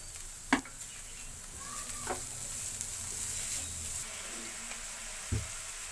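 Vegetables and spices fry in hot oil with a steady, even sizzle. A few sharp clatters of stirring sound near the start and end, and no one speaks.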